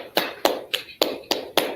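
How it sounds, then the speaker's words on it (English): Six sharp, evenly spaced claps ring out in a steady rhythm, close and fairly loud, as a group claps together at a class gathering. "All right, clap it up."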